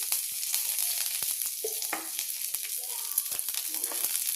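Hot oil sizzles steadily up close in a pan as curry leaves go in, with sharp crackles and pops bursting through the hiss.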